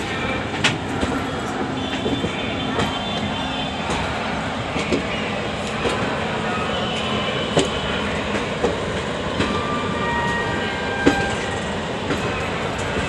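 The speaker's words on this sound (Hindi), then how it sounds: "ये आप देख सकते हैं सामने पुष्पक एक्सप्रेस जा रही है मुंबई टू लखनऊ।" The Pushpak Express, running from Mumbai to Lucknow, rolls past in India with a loud, continuous rumbling roar and repeated clicking of wheels over rail joints, heard close up with no speech.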